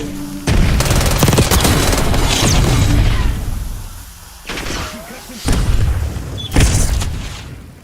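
Explosions and gunfire from an online shooter video game, where an enemy grenade detonates amid heavy, sustained bursts and booms that stay loud and continuous throughout, with intermittent sharp blasts.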